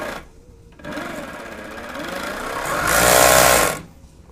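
An industrial sewing machine stitches a waistband onto a pair of jeans. A brief pause gives way to a steady mechanical whir, which builds to a louder, faster run before it stops abruptly. No one speaks.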